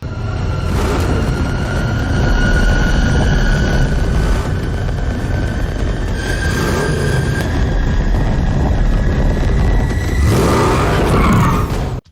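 A Batmobile from The Batman revs with a loud, rough roar, its rumble rising and holding steady before cutting out abruptly at the very end, with no talk over it.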